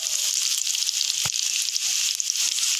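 Lightly crushed ginger and garlic frying in a pan: a steady, loud, close sizzle that never lets up, with one brief clatter midway.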